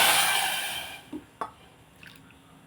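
Two cups of water pour into a pot of sugar on a lit stove for syrup, a steady rushing pour for about a second that fades into a few scattered drips and a soft clink.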